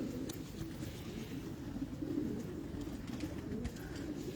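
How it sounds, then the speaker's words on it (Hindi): Sialkoti pigeons coo softly in a loft, low rolling calls repeating steadily at close range against a faint background hum. "सियालकोटी ये मेरे उस्ताद के पुराने कबूतर है"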